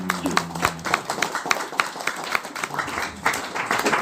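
Clapping from an audience at a gathering, quick irregular claps in a short burst that continues briskly and fairly close.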